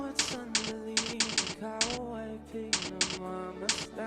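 Computer keyboard typing during a typing practice session: irregular bursts of crisp key clicks, some in quick clusters, heard up close over a steady tonal background hum.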